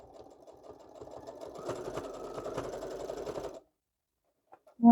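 Sewing machine running a zigzag stitch along the side of a piece of fabric, a steady close mechanical whir for about three and a half seconds, then silence before a brief louder knock at the end.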